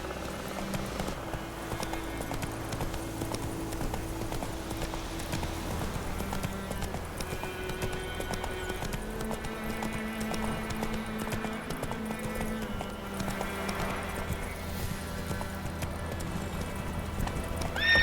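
A horse gallops in The Witcher 3: Wild Hunt, its steady clip-clop hoofbeats running throughout under a continuous bed of game music and ambience.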